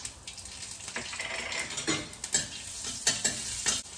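Mustard seeds, cumin, curry leaves and green chillies sautéing in oil in a pan, a soft continuous sizzle with intermittent spatula stirs and scrapes, fairly quiet and without speech.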